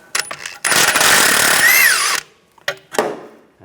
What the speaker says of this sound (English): 18mm socket, take the nut off